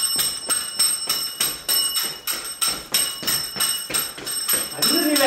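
A bell rings again and again in a quick, steady rhythm, about a dozen loud, bright strikes evenly spaced one after another.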